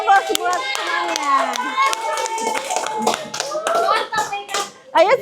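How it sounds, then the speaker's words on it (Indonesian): Students in a classroom applaud a presenting classmate with scattered, uneven hand claps mixed with young voices chattering and calling out nearby. "Silakan, berikan aplaus buat temannya."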